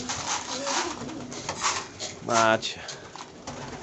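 Pigeons in a wintry pigeon loft give a soft, rolling coo amid light rustling and shuffling, with someone briefly speaking nearby.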